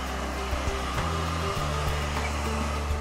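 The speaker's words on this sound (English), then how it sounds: "Use heat on the curves after taping to be sure the filament stays securely in place." A heat gun blows hot air onto vinyl wrap pressed over the curves of a car body, giving a steady, close whooshing roar with a low hum that holds unbroken for about three seconds.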